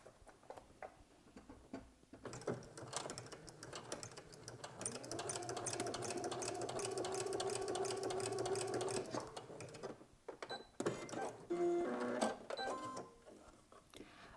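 Domestic sewing machine stitching knit dress fabric, a rapid mechanical whir that runs in bursts of several seconds with brief pauses between runs, close and clear.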